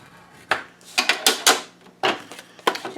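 Paper being scored for a handmade mini album with a scoring tool: a series of sharp scraping strokes and clicks in irregular rhythm, close and distinct with quiet gaps between.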